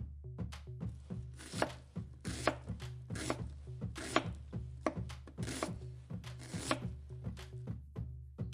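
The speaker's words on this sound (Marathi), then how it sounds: "आणि कांदा टोमॅटो कट करायला घेतले।" Rapid, regular knife chops on a cutting board as onions and tomatoes are cut, close and crisp, continuing steadily with a low background hum and no talking.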